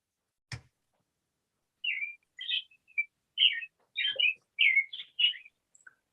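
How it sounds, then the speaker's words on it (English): Birds chirp outdoors in short, bright bursts, about eight quick calls in a loose rhythm after a single sharp knock, fairly faint against an otherwise quiet background. "Oh, I hear birds."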